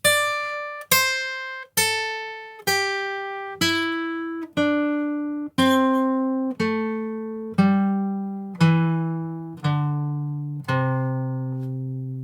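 Single plucked guitar notes step downward in an even, measured rhythm, each ringing out clearly before the next note sounds.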